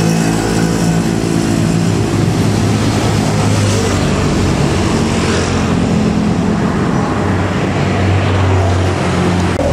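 On the Padalarang–Cianjur road, an angkot minibus passes close and loud, its engine and tyre roar steady over continuous traffic noise with a rising then fading swell, and no talk.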